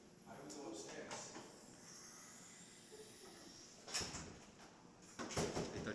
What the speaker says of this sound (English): He just closed the door.